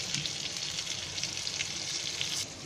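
Masala-coated chicken leg pieces fry in hot oil with a steady, close sizzle that holds at the same level throughout, with no voices.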